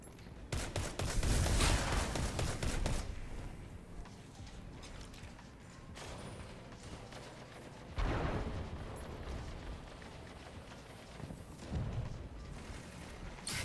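Shotgun blasts and other weapon fire in the Destiny 2 video game, with sharp close bursts early, around the middle and near the end, over a rumbling, busy background.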